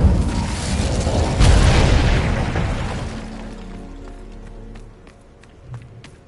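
An Incendio fire spell erupts in Hogwarts Legacy as a loud, close burst of flame and boom that swells for a couple of seconds, then fades into a low rumbling tail with scattered faint crackles.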